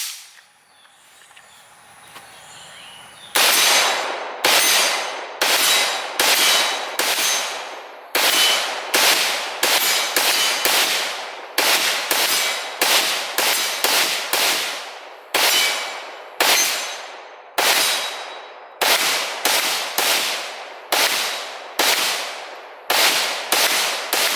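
Rapid-fire gunshots from an AK rifle running a full-size AK/KS47 magazine until the bolt locks open, about two dozen sharp loud reports in quick bursts and singles after a quiet start, no talking.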